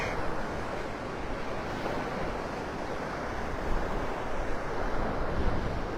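Ocean surf rolls onto the beach at Pelican Bay in North Naples, Florida, as a steady, continuous wash of waves with wind noise buffeting the microphone, with no voices.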